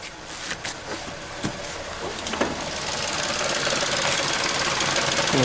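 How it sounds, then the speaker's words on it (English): A 2014 Nissan Versa engine with a cylinder 3 misfire and start-stop module fault idles close by with a constant rumbling hum and a few light ticks and clatters in the first half. "Vehicle is idling real good."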